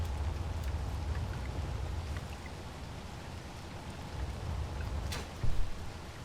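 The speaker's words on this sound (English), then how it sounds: "It is raining." Steady rain hisses through the Space Engineers video game, a constant, fairly soft wash of droplets with a brief thump near the end.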